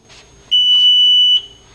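Uniview USS-SC100A-TM-O metal and temperature detection gate sounding its alarm at duration setting 1: a single steady high-pitched electronic tone lasting under a second, loud and close, with no talking.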